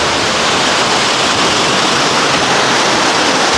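Loud, continuous roar of rushing water from an indoor waterfall at Dubai airport, a dense unbroken wash of noise heard up close.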